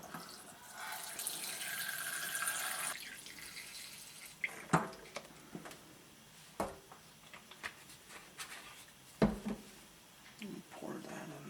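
Antibacterial solution poured into the hot-water tank of a Bissell ProHeat 2X Revolution Pet Pro carpet cleaner: a steady liquid stream for a few seconds, then scattered clunks, drips and handling knocks, fairly faint and close.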